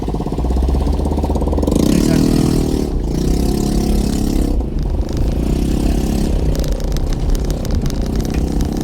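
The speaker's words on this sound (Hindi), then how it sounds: "रेस दो आप।" A vehicle engine revs hard while crawling over a rough, rocky road, loud and continuous with a swell near the start, and indistinct voices sit faintly beneath the steady roar.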